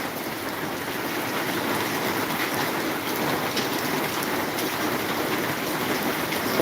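Heavy rain pours steadily in Maharajpur, a dense continuous hiss on surfaces that stays loud and even throughout with no voices.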